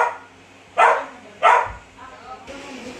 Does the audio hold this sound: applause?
no